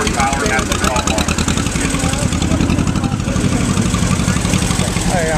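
A 1953 John Deere 40 tractor, an early-production unit, runs at a steady, loud idle with a continuous throbbing drone at a farm auction, with a voice heard faintly over it.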